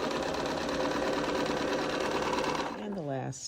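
A sewing machine runs steadily and close up, chain piecing quilt blocks in one long continuous whirring stretch, then slows and stops near the end with a short falling whine.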